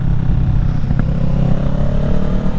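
A 2023 Kawasaki Ninja 650 accelerates on a mountain ride, its engine a loud, close, continuous low drone with a rising pitch and wind rumble.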